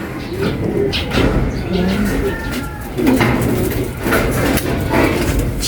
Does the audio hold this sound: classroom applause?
no